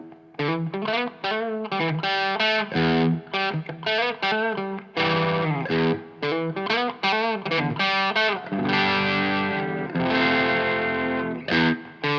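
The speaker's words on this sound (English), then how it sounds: "So this is what the clean channel sounds like" Electric guitar through an amp's clean channel plays power chords in a steady, punchy rhythm with repeated short stabs and sustained ringing chords, loud and close, no talking.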